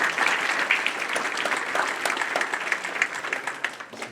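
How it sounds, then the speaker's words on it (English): A graduating class and their audience at the Academy of Finance graduation ceremony break into a round of applause, dense steady clapping that fills the room for several seconds with no one speaking over it. "You guys should give a round of applause for"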